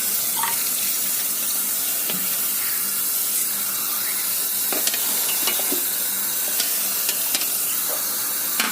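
Tap water runs steadily into a kitchen sink as dishwasher parts are rinsed under the stream, a continuous close hiss of splashing broken by small clinks and knocks, with no talking.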